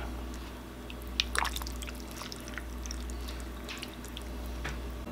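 Baked potato soup stirred in a crockpot, with soft wet squelches and light liquid drips from a spoon moving through the thick soup, quiet and close over a low steady hum.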